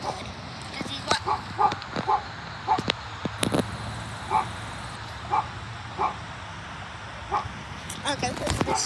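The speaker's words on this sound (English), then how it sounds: "this is a dog barking at me" A dog barks repeatedly at irregular intervals, short sharp yips mixed with whimpering, fairly close over a low background hum.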